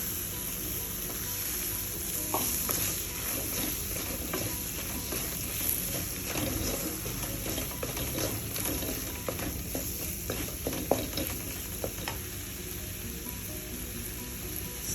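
Sliced capsicum stirred into a sizzling pan of mushroom pepper fry with garam masala, a steady close hiss of frying under repeated scraping and clacking of a spatula against the pan.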